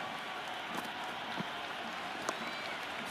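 A cricket stadium crowd at an IPL eliminator match between SRH and RR applauds and cheers in a steady, dense wash of clapping and crowd roar.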